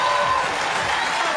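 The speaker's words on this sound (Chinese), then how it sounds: "来，掌声欢迎" Short stretch of studio audience applause on a televised job-interview show, a steady wash of clapping with a faint tone at the start.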